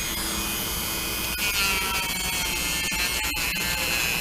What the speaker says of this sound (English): With the power of a Dremel tool, probably don't want it too fast.